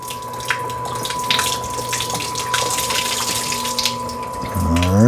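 Liquid slowly draining from a Ninja Slushi FS301 frozen drink maker, a continuous close gushing and trickling flow with a steady machine hum underneath, no talking.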